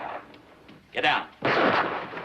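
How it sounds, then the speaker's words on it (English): Gunshots ring out in a 1957 Western film, two heavy booming reports with echoing tails, sounding somewhat distant, over a low background hiss. "It was a gunshot. I heard it."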